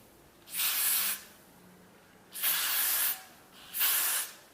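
Hairspray from an aerosol can is sprayed onto a wig in three separate close, loud hissing bursts, each lasting about half a second, with brief quiet gaps between them.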